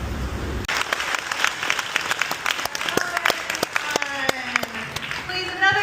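A museum auditorium audience applauds the film Sing Sing at a screening Q&A, many hands clapping in a lively, uneven patter while voices talk and call out over it.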